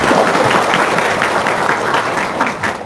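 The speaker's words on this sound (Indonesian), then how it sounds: "tepuk tangan dong" An audience claps at a talk or seminar, a dense, continuous patter of many hands, loud and close, with no speech over it.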